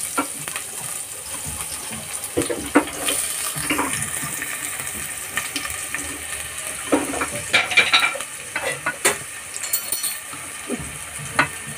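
Chopped onion hits hot oil and sizzles for egg fried rice at a street food stall, with irregular clanks and scrapes of stirring and a splashy, watery texture throughout.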